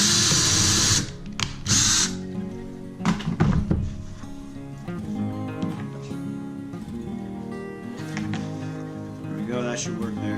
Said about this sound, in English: then drill all the holes and screw them together